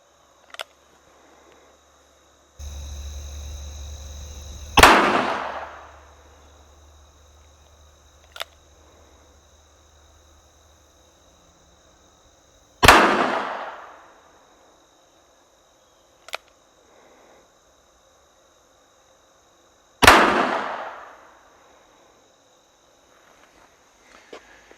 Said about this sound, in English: I'm going to load up 3 rounds of this ammunition in the revolver